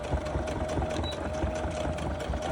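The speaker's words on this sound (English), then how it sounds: "this is just a domestic sewing machine" A domestic sewing machine stitches through thick fabric with a rapid, steady mechanical whir and rhythmic needle thumping, close and continuous, with no speech.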